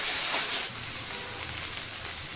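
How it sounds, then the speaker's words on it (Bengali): Spiced masala sizzles and fries steadily in hot oil with chicken skin and feet for a chicken skin curry, a close, continuous crackling hiss with no voices. "এই যে দেখুন, মশলাটা বেশ ভাজা ভাজা হচ্ছে।"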